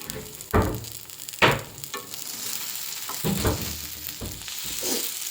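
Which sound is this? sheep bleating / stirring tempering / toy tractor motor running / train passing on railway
stirring tempering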